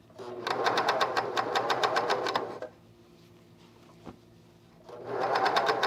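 A sewing machine stitches the neckband of a men's raglan shirt in two loud, fast-buzzing runs separated by a quiet pause.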